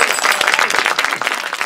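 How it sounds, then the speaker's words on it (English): Studio audience at an improv comedy show breaking into steady, dense applause, loud and sustained with no gaps. "please give a round of applause"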